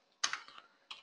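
Computer keyboard keys clatter as an iptables firewall command is typed on a CentOS server: a sharp burst of close clicks, a few softer taps, then another quick cluster near the end.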